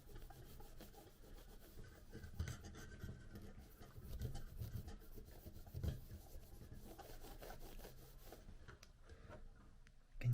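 Quiet, repeated rubbing strokes over a remote control part being cleaned, a soft scratchy scrubbing texture with irregular rhythm and occasional light bumps, close up and alone.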